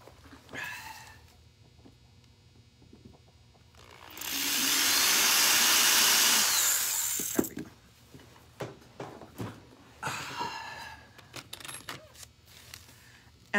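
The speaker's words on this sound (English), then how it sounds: "I need to drill a little deeper." A drill runs in a single loud, steady burst of about three seconds, surrounded by clatter, tapping and handling sounds before and after.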